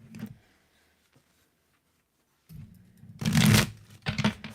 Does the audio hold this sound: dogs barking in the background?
no